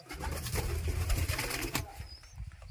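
Pigeons coo steadily up close, low throaty murmurs overlapping through the whole stretch, with a brief rustle partway and faint chirps near the end.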